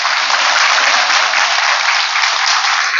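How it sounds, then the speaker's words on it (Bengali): Dense, loud applause fills a workshop hall at an ashram as the audience claps together, a sustained, even roar of many hands with no pauses. "বেরিয়ে আশ্রমের জন্য একবার জোরে হাততালি।"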